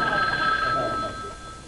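A telephone bell rings in a family home just before a long-distance call, a steady sustained trill that fades toward the end, with faint voices in the background.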